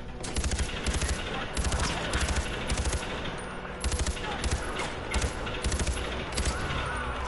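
Sustained, rapid gunfire in the open-world shooter Far Cry 4, loud and near, with pulsing bursts of automatic fire and echoing shots that keep going over faint background noise.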